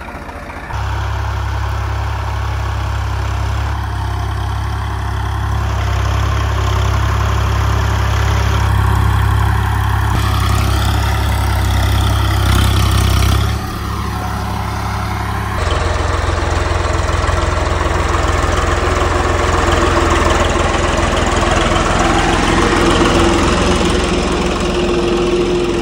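A farm tractor engine idles close by in a field, giving a steady, loud low-pitched rumble that runs for the whole stretch, with shifting background noise and no talking.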